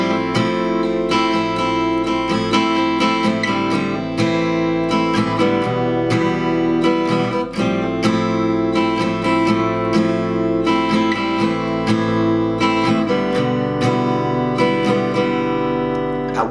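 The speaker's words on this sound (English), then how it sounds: "So if I play that through in one entire cycle, it should sound like this." Guitar playing the chord cycle of a song: a steady, close fingerpicked progression with ringing chords and plucked strings, played alone without voices.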